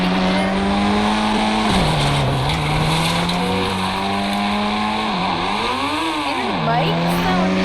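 A Porsche engine revs and shifts in the Indian Bike Driving 3D video game, a loud steady whine rising and dipping with gear changes, with a voice talking over it throughout.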